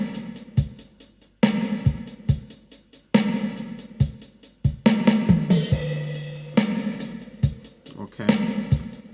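A programmed reggae drum beat plays alone, with sharp, regularly spaced kick and snare hits over a sparse, laid-back groove and short fills.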